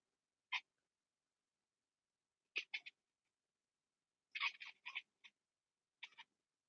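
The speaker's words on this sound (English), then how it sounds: "But my cat's over here going nuts." A house cat meows in a run of short calls, one alone, then clusters of two to four, fairly close and clear against a quiet room.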